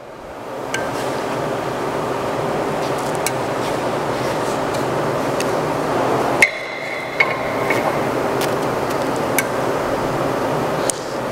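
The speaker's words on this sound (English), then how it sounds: "So we're gonna go ahead and turn the welder on." MIG welder welding a washer onto a broken bolt in a cylinder head, a steady close crackling buzz of the arc running continuously with a brief interruption and faint clicks.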